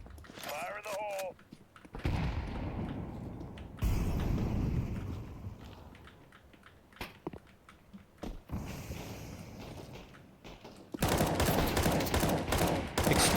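Counter-Strike gunfire during a professional IEM Cologne Major match, coming in bursts of rapid shots and single cracks with footsteps and thuds, under occasional voices.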